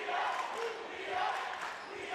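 A basketball gym crowd roars and cheers at a high school game between Detroit Renaissance and East Kentwood, a dense, sustained wash of voices swelling and easing across the moment.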